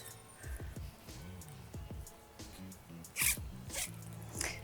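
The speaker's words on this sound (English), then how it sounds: "we're going to zip up that lid." The zipper on the lid of an Eagle Creek Pack-It laundry sac is pulled closed, giving a series of soft, close zipping rasps with brief pauses and fabric rustling, the strokes growing louder toward the end.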